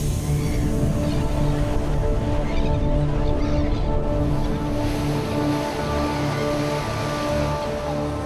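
Ocean waves wash steadily on the Strait of Gibraltar at Tangier, a continuous loud surf roar with some wind and no speech.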